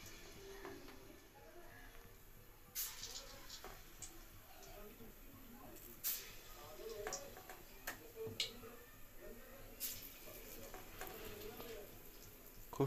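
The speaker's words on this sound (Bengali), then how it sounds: "এবারে অল্প অল্প করে তেলের মধ্যে এই ছেড়ে দেওয়া হচ্ছে" Small portions of batter slide into hot oil one after another, setting off a soft, steady sizzle with light ticks and utensil taps, while a voice talks over the frying.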